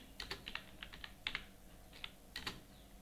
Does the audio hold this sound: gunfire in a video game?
no